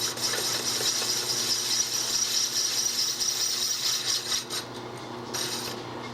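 A small South Bend metal lathe trims a metal workpiece. It gives a steady, fairly loud machining hiss and rasp with a constant motor hum underneath, easing slightly near the end, with no voices.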